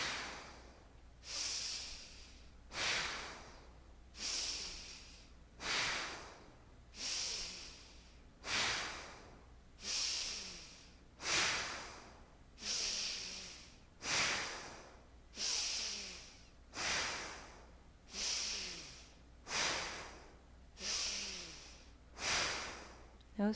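During a yoga exercise, forceful breaths rise and fall in a steady rhythm, about fifteen long, hissing inhale-exhale cycles close to the microphone. Each swell ends in a brief pause, with no talking over them.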